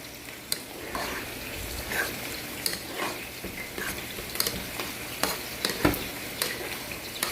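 Rice being stirred around a cooking pot as it fries, with repeated scraping strokes over a steady sizzle and occasional sharper clinks of the utensil against the pot.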